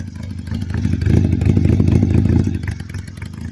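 A 1987 Honda Rebel CMX250 bobber with a swapped-in Nighthawk engine and short performance mufflers fires up from cold, its loud, close exhaust settling into a steady, rumbling idle that swells midway and then eases slightly.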